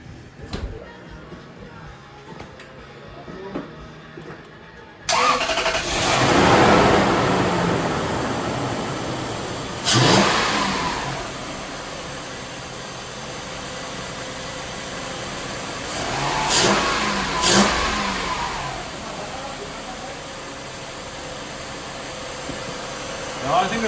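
A car engine fires up for its first start after a round of maintenance, then runs and revs in several rising swells over a steady idle, heard up close.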